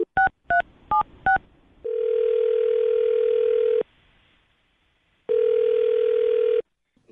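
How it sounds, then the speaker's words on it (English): A telephone is dialed: four short, evenly spaced keypad tones, then two long steady tones separated by a gap of near silence, clean and close. "I'm going to dial her phone number right now."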